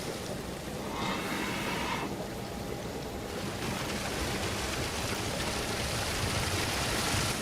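Water draining away in the video game Call of Cthulhu: Dark Corners of the Earth, a continuous rushing, hissing flow like a stream that holds steady for several seconds with no talk.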